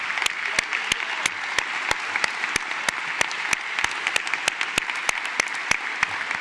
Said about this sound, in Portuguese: Um grande aplauso à nossa Presidenta.